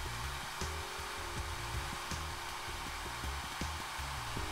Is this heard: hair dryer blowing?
yes